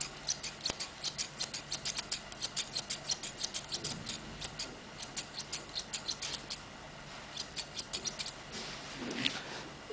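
Scissors trim a dog's fur during grooming with quick, rhythmic snips, many crisp metallic cuts in steady bursts. They are close but fairly quiet over a soft background hiss, and no one speaks.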